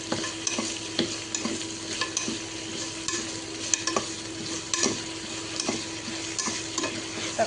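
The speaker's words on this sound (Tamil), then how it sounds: "வாசனை போனதுக்கப்புறம் அரிஞ்சு வச்சா தக்காளியை சேர்த்துக்கிறேன்." Tomatoes, curry leaves and coriander frying in a pan for tomato rice, a steady soft sizzle with regular scraping taps of a spoon stirring, close and moderately quiet.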